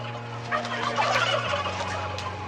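Farm turkeys raised for meat gobble in a close, loud burst of rapid rattling calls over a low steady machinery hum, with no talk.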